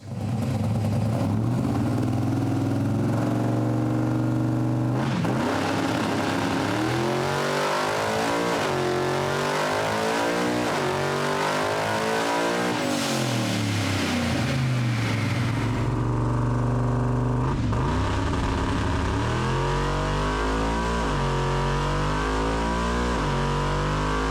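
A car engine revs hard at wide open throttle on a hub dyno, pitch sweeping up and down repeatedly, loud and close, with a deep roar rising in the final seconds.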